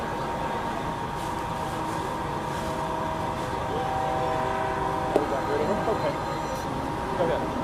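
A train rolls past with a steady rumble of wheels and cars, a horn-like tonal drone running through it, while someone talks over the noise.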